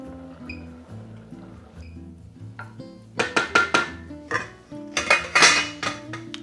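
A lid set down onto a pot of simmering rice in a home kitchen, giving a run of sharp metallic clanks and clatters that grow louder toward the end over a steady low stovetop hum.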